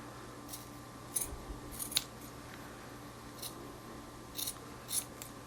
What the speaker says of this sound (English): just take scissors. I use regular scissors for this, and then just cut it into 1/2 inch